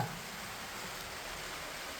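Steady, soft rain hisses evenly throughout, a constant wash of patter with no other sounds.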